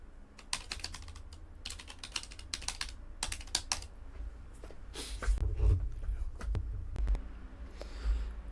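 Someone types steadily on a computer keyboard up close, with rapid key clicks in uneven bursts and soft low thumps from the desk underneath. A dog whimpers faintly in the background.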